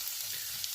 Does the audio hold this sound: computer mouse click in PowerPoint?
no